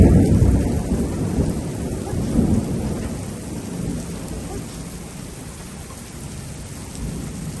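Deep rumbling thunder rolls through a strong July thunderstorm, loud at the start and slowly fading, with steady heavy rain pattering on surfaces throughout.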